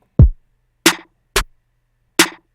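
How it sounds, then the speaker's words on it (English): Four short, punchy hits from a secondary snare drum run through a gate and a compressor, each strike cut off sharply into silence; the first hit is duller and lower, the other three crack brighter and evenly spaced. "this particular snare, the secondary snare, has a characteristic of its own as well."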